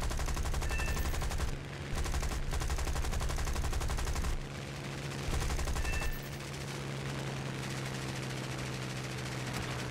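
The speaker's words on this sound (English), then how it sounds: "This plane actually has 8 machine guns." An eight-gun British fighter plane firing its machine guns in War Thunder, long rapid bursts of loud continuous gunfire with brief pauses between them over a steady engine drone.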